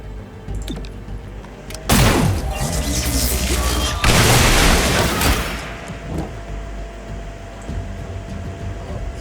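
Explosions in the video game XCOM Chimera Squad: two loud, broad blasts, each roaring and crackling for about two seconds, back to back over a steady game background with no talk.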